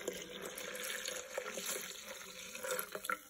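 A steady, faint stream of water pours into flour to make a binder for Moroccan harira soup, a soft continuous trickle with small splashes toward the end and no voices.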